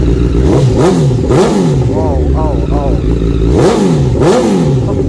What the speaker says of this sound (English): It's got that aggressive growl. It sounds like a race bike